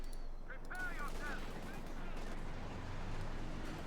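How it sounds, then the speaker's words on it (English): Flak half-track gunfire in a World War II tank video game, a dense, continuous roar of fire with a few faint whistling tones early on, heard at moderate loudness with no talking. "they're getting blasted heavily by the flak half track"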